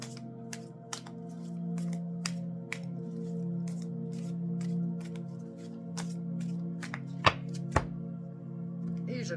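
A deck of oracle cards being cut and handled on a table, a scattering of crisp clicks and soft card slaps over a low steady hum, with a couple of louder snaps near the end.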